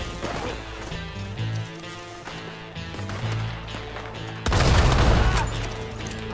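Rapid bursts of gunfire in Red Dead Online crackle over a busy music-like background, with a louder burst of shots and impacts near the end.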